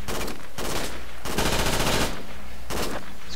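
Rapid bursts of automatic gunfire from the military video game Project Reality, loud, close and nearly continuous, with several rattling volleys and short gaps between them.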